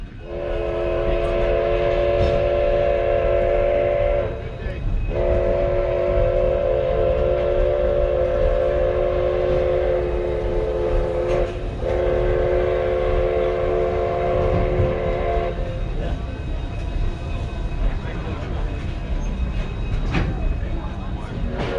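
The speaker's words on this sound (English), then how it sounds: "the Durango and Silverton Railroad is a 3-foot narrow gauge heritage railroad" Durango and Silverton 3-foot narrow gauge heritage train departing, its whistle sounding in long sustained blasts with brief breaks, then fading into steady rumbling of the cars on track, with faint voices nearby.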